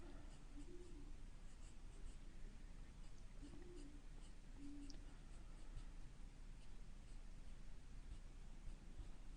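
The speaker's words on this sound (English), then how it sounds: "I'm using that little flicking motion of the pencil." Pencil sketching on paper with quick flicking strokes, a soft continuous scratchy rustle that stays faint and close throughout, with a few low cooing bird calls in the background.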